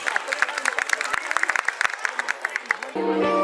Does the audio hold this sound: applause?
yes